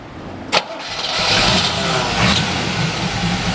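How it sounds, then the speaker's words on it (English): A 1969 Pontiac Firebird big block V8 cranks with a sharp starter burst, catches and settles into a loud, rumbling idle close by, no voices over it. "But we'll go ahead and fire this one up for you."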